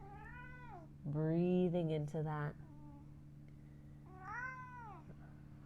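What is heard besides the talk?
half Siamese cat meowing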